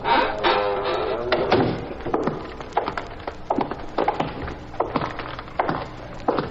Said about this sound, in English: All right, shut the door and walk down to the far end.